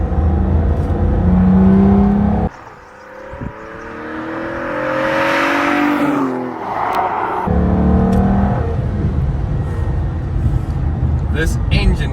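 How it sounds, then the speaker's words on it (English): A 2005 Aston Martin DB9's naturally aspirated V12 engine revs hard and climbs in pitch, drops off sharply, then surges again with a rising, roaring whine up close. "this V12 naturally aspirated engine. It really makes an amazing noise"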